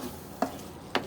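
Beef liver (kaleji) fries in a pan: a faint, low sizzle with two short spatula scrapes about half a second apart.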